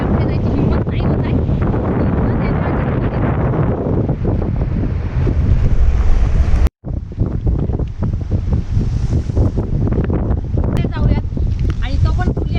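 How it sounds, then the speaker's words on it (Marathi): Floodwater on the Wainganga river near Gosekhurd dam in Bhandara surges in loud, continuous rushing waves, buffeted by heavy wind noise, with a brief dropout midway and someone talking over it. "हे पाण्याच्या अशा लाटा, समुद्रात जशा लाटा येतात त्या पद्धतीचं पाण्याच्या लाटा येत आहेत।"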